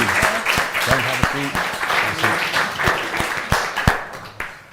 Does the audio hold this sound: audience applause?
yes